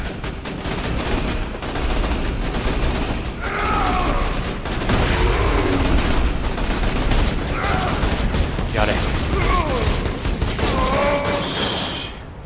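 Corrosive weapon gunfire and explosions in the Borderlands 2 video game, a dense, loud, continuous barrage of shots and blasts throughout, with a person talking over it.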